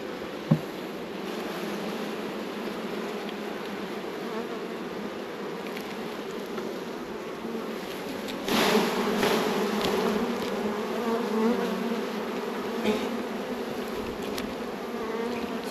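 Honey bees buzzing around an open hive during a beginner's frame inspection, a dense, continuous close-up drone with individual bees swelling louder as they pass near.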